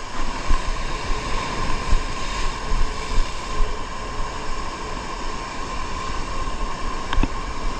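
Steady broadband wind roar with gusty surges over a constant low rumble, loud and close, with no voices, while fishing for bluefin trevally.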